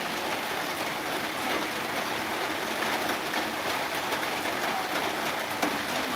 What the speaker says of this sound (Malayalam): ഇവിടെ നല്ല മഴയാണ്